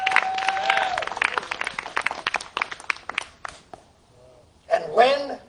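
A church congregation claps in a quick, scattered burst that thins into a few separate claps and fades, with voices calling out over it and a short spoken exclamation near the end.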